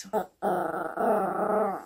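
A guard dog growls in short, close bursts, with a brief pause near the start and then a sustained rumbling snarl; a person speaks nearby.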